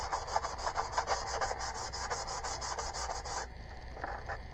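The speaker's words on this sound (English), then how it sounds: "just take a piece of sandpaper, and just kind of scuff along this a little bit" Sandpaper scuffs along a model rocket body tube in quick, rhythmic back-and-forth rubbing strokes, close and steady, easing into a few lighter passes near the end.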